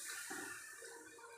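Tamarind water is poured into a simmering kuzhambu curry, a brief, soft, continuous splashing pour close by.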